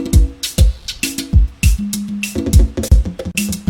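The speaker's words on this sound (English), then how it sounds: "You guys are gonna hear the toms." Toms rolling through a Ghanaian piano highlife drum loop, low thudding hits alongside kick, crisp hi-hat ticks and short tonal notes, steady and close with no talking.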